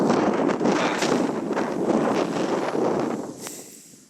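Wind gusting hard across the microphone at an outdoor grass fire scene, a rough roaring rush that swells and eases before dropping away.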